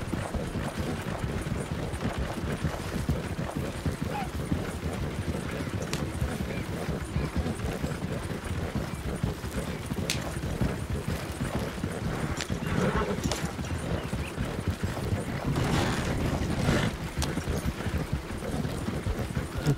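Horse hooves clip-clopping steadily through a forest in the video game Red Dead, with occasional neighing over continuous ambient game sound.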